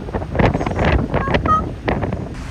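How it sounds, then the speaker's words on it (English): Strong wind buffets the microphone in rough, low gusts, rising and falling over a couple of seconds. "It's very windy, very windy. It's like a funnel wind here."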